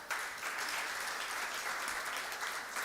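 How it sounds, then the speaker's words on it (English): Audience at a graduation ceremony for a women's business incubation project clapping, a steady, fairly distant wash of many hands applauding without pause, fairly faint overall. "Please, let's give them a clap."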